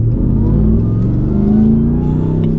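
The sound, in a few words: Ram TRX supercharged V8 engine revving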